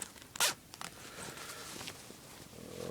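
A plastic olive zipper on camo trousers is pulled in one quick, loud rasp near the start, followed by softer handling rustles of the fabric, close up with no talking.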